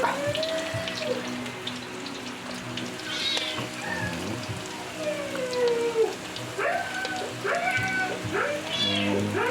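A cat meows repeatedly, several rising-and-falling calls close by, over a background of running water or rain, with no speech.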